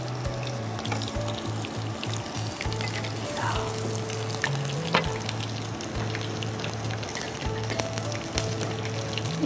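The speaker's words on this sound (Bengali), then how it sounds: "যেহেতু ব্রেড ক্রাম্ব ইউজ করা হয়েছে। পুড়ে যাচ্ছে, আপনার চুলাটা একটু কমে দিতে হবে আপনার।" Breadcrumb-coated prawns frying in oil, a steady crackling sizzle with occasional sharp pops and clinks, alongside a low pulsing hum.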